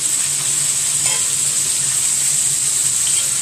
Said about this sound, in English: fry it on the other side and sideways